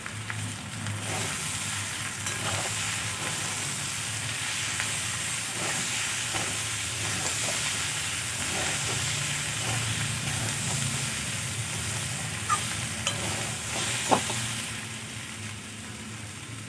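Onion-stalk curry sizzles and hisses steadily in a pan as chopped coriander is stirred in, with a continuous frying sizzle and a few faint scraping knocks from the spoon.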